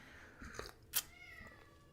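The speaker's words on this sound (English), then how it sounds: "I don't know if you can hear my cat meowing in the background." A pet cat meows faintly in the background of a quiet indoor room, giving a couple of soft, brief calls.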